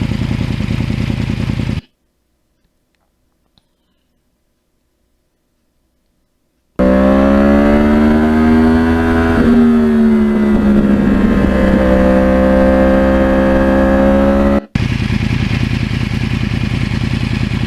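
A Yamaha R1 crossplane sport bike heard on board during a ride to a lake, a steady engine drone with harmonic tones that rise and fall, alone after a long silent gap and buffeted by wind.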